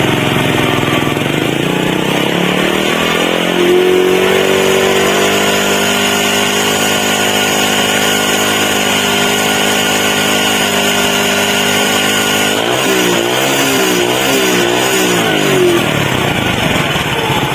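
A Viar motorcycle engine with a fullwave stator, fitted to a Grand or Supra, is revved up from idle, a loud, steady, buzzing drone that rises in pitch and wavers through several throttle blips near the end.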